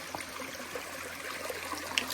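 A small stream flows along the Appalachian Trail, giving a steady, close trickle and babble of running water with a few brighter splashes and no voices.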